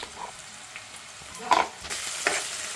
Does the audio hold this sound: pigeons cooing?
no